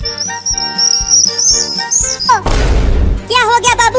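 Baby birds chirp in fast, high, looping tweets, loud and close, broken midway by a short noisy crash before the chirping resumes.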